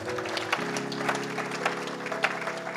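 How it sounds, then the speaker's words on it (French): A church congregation applauding together, a steady dense wash of clapping throughout, with a sustained musical tone underneath. "Acclamons le Seigneur."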